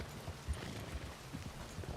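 A horse in Red Dead Redemption 2 clip-clops along with a soft, irregular run of hoof thuds under a faint background rumble, fairly close and moderately quiet, with no voices.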